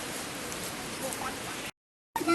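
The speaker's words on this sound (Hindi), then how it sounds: "बहुत तेज़ बारिश है" Heavy rain pours in a dense, steady hiss on the road to Yamunotri in the mountains, then cuts out to brief silence before resuming with a louder knock.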